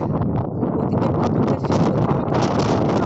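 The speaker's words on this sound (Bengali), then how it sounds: "আর এখানে এত হাওয়া দিচ্ছে দাঁড়িয়ে থাকা যাচ্ছে না" Strong cyclone Remal wind buffets a rooftop at night, roaring loudly and continuously against the microphone with gusty rumbling for about three seconds.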